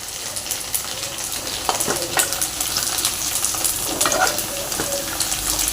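Paneer cubes fry in a pan with a steady, close hiss of hot oil, scattered pops and brief scraping stirs running through the whole stretch, and no one talks.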